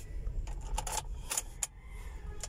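Keys to a Toyota Commuter Deluxe van jangle faintly in a hand at a used car lot, a few soft metallic clinks and rattles over low background hum.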